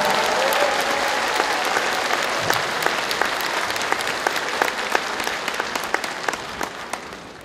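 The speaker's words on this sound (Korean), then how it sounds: "박수를 보내주십시오." A large crowd at a Korean political party rally in Jeju claps loudly and continuously, with sharp individual claps standing out in the dense applause as it slowly eases off.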